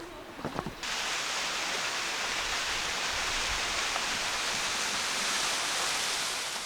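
A mountain valley stream with waterfalls, on a summer trail from Baekdamsa temple toward Daecheongbong peak in Inje, South Korea, roars with a steady, dense rush of falling water after a brief quieter moment.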